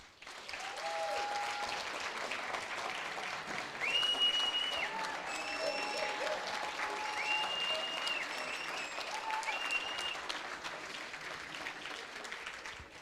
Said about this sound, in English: I'd like us just to give them a round of applause